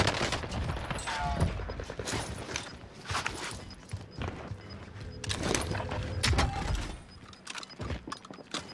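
MP40 submachine gun fire on Rebirth Island in a shooter, loud bursts of rapid automatic shots broken by short pauses, with footsteps and other game noise between them.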